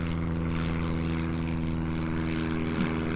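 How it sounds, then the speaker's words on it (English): A propeller airplane flies over a house in early spring, a steady, fairly loud droning engine hum that holds evenly throughout with no talking. "We already got planes flying over our house when we're trying to record audio."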